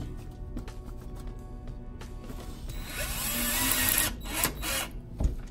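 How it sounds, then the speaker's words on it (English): A cheap cordless drill drives GoBoard fasteners into tile backer board at wall studs, its motor whirring steadily and rising in a sustained burst, with a few knocks and clicks of handling around it. "cordless drill."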